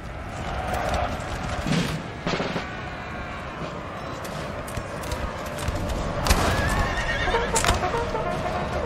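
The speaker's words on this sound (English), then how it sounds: "As cavalry goes for the artillery piece as well." Cavalry horses charging in the video game Napoleon Total War 3, loud whinnies and galloping hoofbeats over a dense battle din, with sharp impacts rising from the mix.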